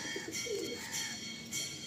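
Pigeons at a sale in Behala, Chanditala coo softly in low, throaty pulses over a steady hiss of background noise, with no talking.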